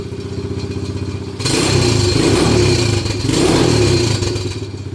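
A child's quad (ATV), just repaired, idles loudly and close by with a rough, clattering tone, then is revved twice in strong, sustained bursts before settling back toward idle.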